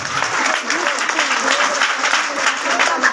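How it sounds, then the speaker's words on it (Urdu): An audience claps in sustained, dense applause at an annual school results prize-giving ceremony, loud and close throughout, with a voice speaking over the clapping. "تالی ہو جائے تالی ہو جائے"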